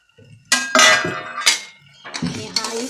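Raw rice poured into a pan of hot oil with a little salt, for a fasting-day recipe, landing in a few loud rattling, clinking bursts against the metal pan, close up and with no talking.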